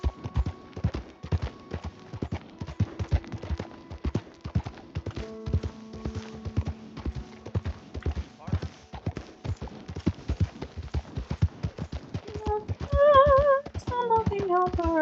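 Horse hooves clip-clop in a steady, close trotting rhythm in the Red Dead Redemption 2 video game, with faint music or calls rising near the end.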